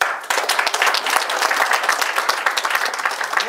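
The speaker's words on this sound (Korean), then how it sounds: "박수." A room of people at a political party training session claps in brisk, loud applause, many hands close by beating in a lively, slightly uneven rhythm.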